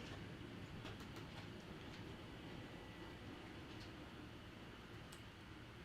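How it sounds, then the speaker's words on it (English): A model railway freight train loaded with coal wagons runs past, making a steady, faint rolling rumble with light clickety-clack ticks from the wheels and track joints. "freight train, we can run this one a little bit slower, I think"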